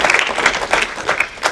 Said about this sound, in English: a round of applause for the